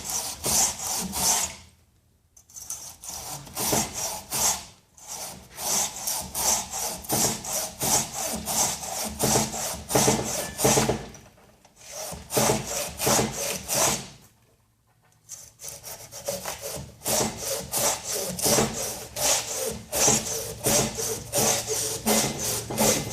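A Silky folding hand saw cuts through wood in quick, rhythmic rasping push-pull strokes, close and fairly loud, with a few brief pauses where the blade stops between bursts of sawing.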